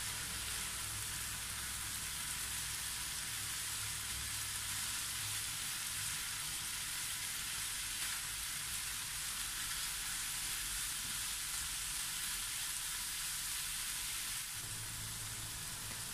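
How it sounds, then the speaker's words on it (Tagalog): Bitter gourd stir-frying with chicken in a hot pan, a steady close sizzle that hisses evenly throughout without pause, no voices over it. "ngayon ilalagay na natin ang ating ampalaya or ang ating bitter gourd. Saka po muli natin ito halo-haluin"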